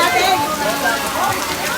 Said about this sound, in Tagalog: Hindi tayo makagalaw dahil sinisigida tayo ng ulan.